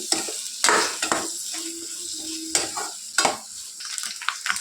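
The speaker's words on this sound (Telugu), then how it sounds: "ఇప్పుడు క్యారెట్ బంగాళాదుంపను బాగా ఫ్రై చేసుకోవాలి." Carrot and potato frying in a pan for a kids' lunch box dish, with a steady hiss and repeated loud scraping stirs and bursts of crackle; no voices.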